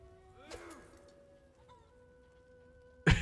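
A chicken clucks in the video game Divinity: Original Sin, a few soft calls at moderate distance over quiet background, ending with a sudden louder noise burst.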